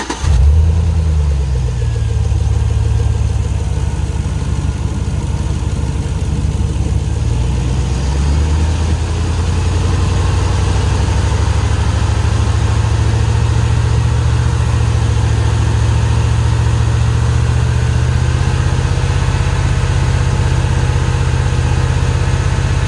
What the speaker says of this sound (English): we're going to run it at 2 grand